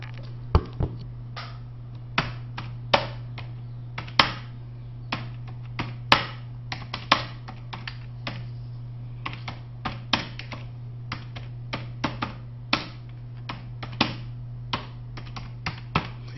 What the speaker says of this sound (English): then I continue to type.